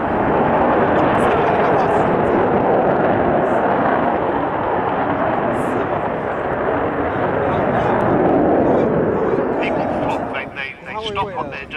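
A loud, sustained jet engine howl from an Avro Vulcan bomber roars for several seconds at RAF Fairford airshow, then dips and wavers at the end.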